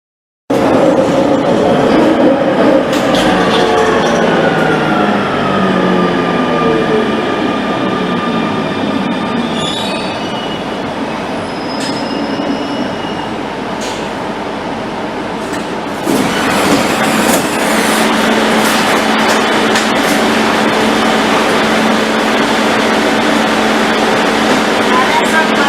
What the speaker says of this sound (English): So looks like we'll wait for the train to arrive.